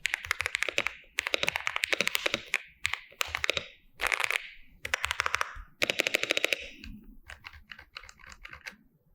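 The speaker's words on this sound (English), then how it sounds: "But let's take a listen to the keyboard itself." MCHOSE UT98 keyboard being typed on, with rapid bursts of crisp, clacky keystrokes in close, distinct runs separated by short pauses, ending in a slower spread of individual clicks.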